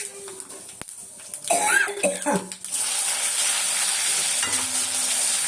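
Small shallots dropped into hot oil in a pan for a fish kuzhambu, with some stirring and a cough, then a steady loud sizzle of frying that carries on close-up to the end.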